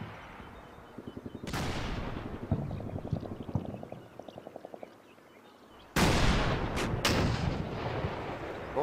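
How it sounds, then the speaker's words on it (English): Mortar and artillery fire in the WWII strategy game Combat Mission: Battle for Normandy, with distant booms and rattling bursts of small-arms fire, then a loud close blast roughly two-thirds through followed by more sharp reports. "I'll enjoy your mortars."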